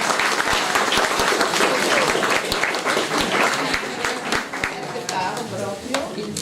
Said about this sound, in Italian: un applauso a Giulia.